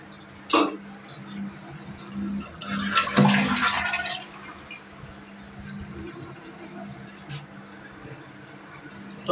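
A toilet being flushed after a new siphon fitting has been installed, with a click at the start, then a loud rush of water around three seconds in settling into quieter cistern refilling, with no voices.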